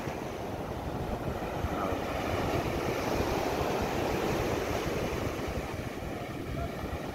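Steady rushing of rough sea waves around boats mixed with a low boat engine drone, a continuous broadband wash that stays loud and even throughout.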